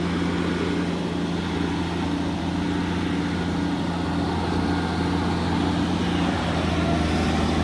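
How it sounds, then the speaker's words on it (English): An earthmoving machine stripping topsoil down to clay labours under load, its engine a loud, steady, close-up roar with no pause. "Listen to the engine bark in a second."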